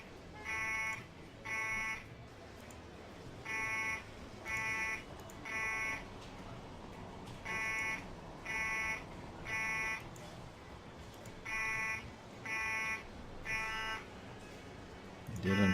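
A fire station box alarm from the Emergency 4 video game with the Bushton mod sounds over a constant noisy background. Loud buzzer bursts come in clusters of about three, repeating at regular intervals throughout.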